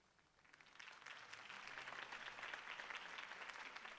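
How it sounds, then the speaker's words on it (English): Crowd applause in the video game Batman: The Telltale Series, a dense wash of clapping that swells in from quiet and holds at a moderate level, sounding somewhat distant. "could have heard that applause"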